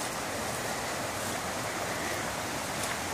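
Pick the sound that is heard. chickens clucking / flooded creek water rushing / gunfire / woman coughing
flooded creek water rushing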